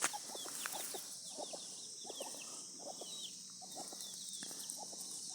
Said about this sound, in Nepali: यहाँनिर चल्लाहरू छ, चिक्स, सानो सानो